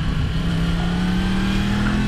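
Engine of a 2016 Yamaha MT-10 Crossplane motorcycle on the road, a steady loud drone holding one pitch that creeps slowly upward, heard close and continuous under rushing wind with no talking.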